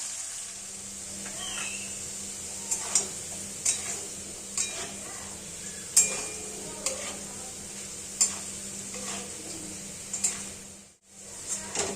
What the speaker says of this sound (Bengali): গরম তেলে হাফ বয়েল করা আলুগুলো দিয়ে দেব, তাতে একটু হলুদ দেব